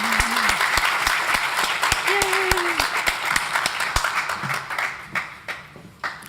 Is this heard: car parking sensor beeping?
no